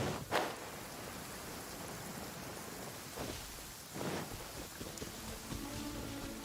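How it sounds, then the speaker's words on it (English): Steady rain pours down in the video game Genshin Impact, a dense even hiss throughout with a couple of low rumbling swells like distant thunder, no voices over it. "Дождичек пошел."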